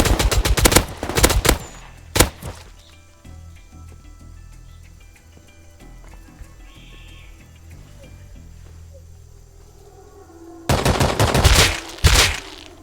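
Automatic gunfire in the survival video game Rust, with loud rapid bursts at the start, a single sharp shot shortly after, quieter ambient hum in between, then another heavy burst near the end.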